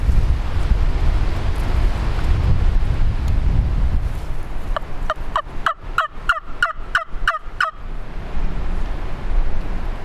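Wind rushes and buffets the microphone in heavy gusts, easing midway while a wild turkey gobbler in Tennessee gobbles in a quick rapid series, then the wind picks up again.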